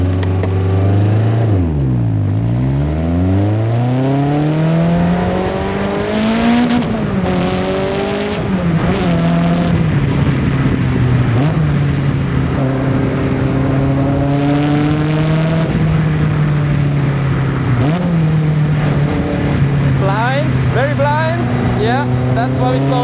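A sports car with a heavy clutch makes a hill start; its engine drones loudly and steadily close up, pitch dipping and then climbing through repeated revs and gear changes, with a voice talking intermittently over it.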